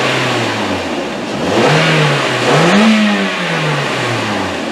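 A car engine with an intermittent crank, no-start and stalling fault is revved twice, the pitch climbing and falling back to idle; a steady, fairly loud drone with no talking.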